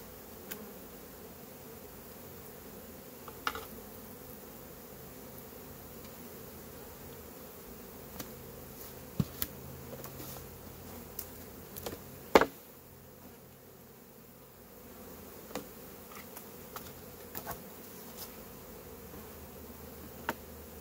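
Honey bees drone in a dense, steady buzz during a shook swarm, close and continuous, with scattered faint clicks and taps over the hum.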